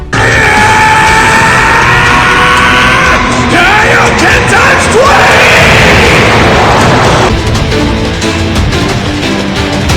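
Goku, from Dragon Ball, screams loudly and continuously while powering up, a strained yell under booming energy and explosion effects that fill the whole stretch.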